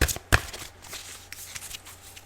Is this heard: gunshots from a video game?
no